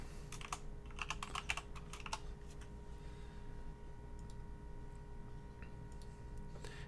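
Computer keyboard keys clack in a quick cluster of crisp, close taps during the first couple of seconds while an image editor is being used, then the typing thins to a few sparse clicks over a faint steady hum.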